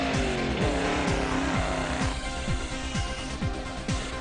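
A Ford Ranger off-road rally vehicle racing at the Lichtenburg 200, its engine revving hard with rapid repeated gear changes, loud and close, no talk.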